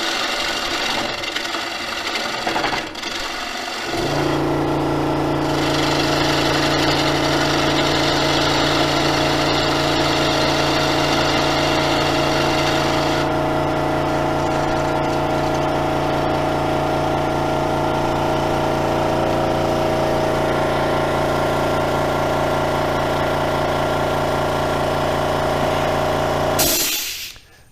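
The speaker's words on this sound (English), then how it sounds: "That noise you just heard is my air compressor" An air compressor starts a few seconds in with a steady mechanical motor hum with strong tonal bands, droning loudly for over twenty seconds before cutting off abruptly.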